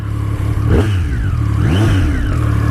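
A 2016 Triumph Street Triple motorcycle engine revs up twice in quick bursts, the pitch climbing and falling each time over a steady idle, loud and close.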